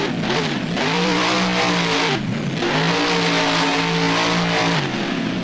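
Monster truck engine in BeamNG, the Avenger truck at a Soldier Field freestyle event, revving loud and close with rising and falling pitch, one brief dip before climbing again.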